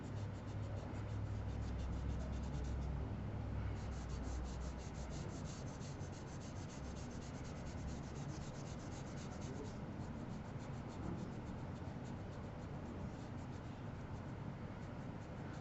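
Graphite pencil shaded on paper with the side of the tip, a steady, close, continuous scratchy rubbing that carries on alone for the whole stretch with slight changes in stroke.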